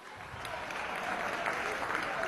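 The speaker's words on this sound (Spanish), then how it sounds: "aplauso" Applause in a session of Venezuela's National Assembly, a sustained crowd of hands clapping that swells slightly and stays even, heard from within the chamber with faint voices mixed in.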